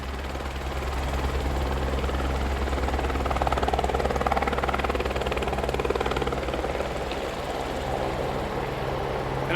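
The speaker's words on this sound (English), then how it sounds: "Helicopter's off the ground." A helicopter engine roars steadily with a deep rotor thrum, growing slightly louder midway as it lifts off, heard fairly close with no voices.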